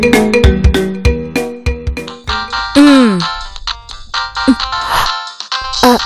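A phone ringtone plays for an incoming call in a domestic TV drama scene, a loud melodic electronic tune of repeated bright notes and short phrases, close and clear, with no talking over it.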